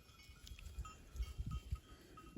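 Goats browse on oak leaves on a mountainside, giving faint, irregular soft thumps and rustles at close range, with no talking.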